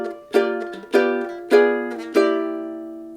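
Four ringing chords strummed one after another on a ukulele form a short walk-up from an arrangement, each strum bright and close, decaying before the next, with no voices.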